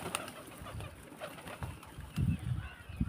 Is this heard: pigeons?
yes